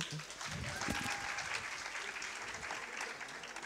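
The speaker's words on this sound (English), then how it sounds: "let's clap them" Audience claps for award winners at a prep class Oscars school ceremony, a fairly quiet, steady patter of many hands with a few sharper claps and brief murmurs of voices early on.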